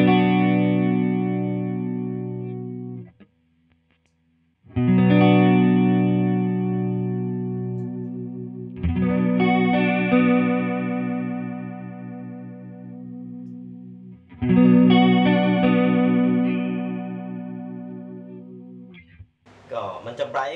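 An electric guitar runs through a Maxz Dual Chorus pedal on its bright setting, playing sustained strummed chords with a shimmering, wavering chorus tone, in four long ringing phrases separated by short pauses.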